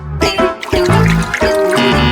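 Water poured in a brainrot-style house-building video game, a loud splashing, gurgling stream that pauses briefly and resumes, alone with no talk.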